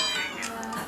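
A cat meows a few times close by, thin high-pitched cries over a steady hum, with no one talking.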